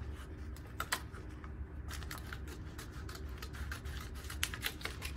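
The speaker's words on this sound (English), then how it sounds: "I'm going to use the edge to line up my scissors where I want to cut this." Scissors snip through a paper rub-on transfer in a quiet room, a series of faint, close crisp clicks and cuts scattered irregularly over a low background hum.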